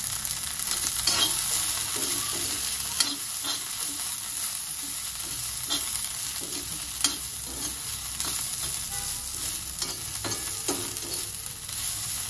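Green chillies and sesame seeds for thecha roasting in a pan, giving a soft, steady sizzle broken by repeated scraping stirs at an irregular pace, close and alone.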